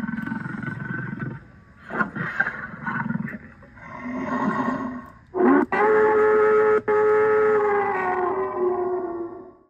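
A Mr. Howl Halloween animatronic gives out a sequence of loud, close growling roars that build into a long sustained howl-like roar, with brief pauses between the bursts.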